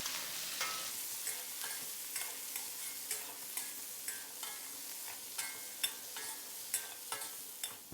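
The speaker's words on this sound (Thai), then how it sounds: "เราก็ผัดจนกระลำดอกของเราสุกสลดนะครับ" Cauliflower stir-fries in a hot pan with garlic and pork belly, a steady close sizzle broken by a run of regular scraping, clattering stirring strokes.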